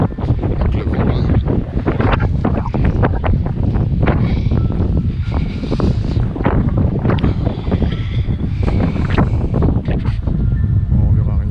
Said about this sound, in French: Donc le vent, là.